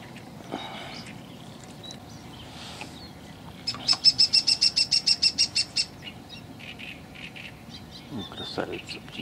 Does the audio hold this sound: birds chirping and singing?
yes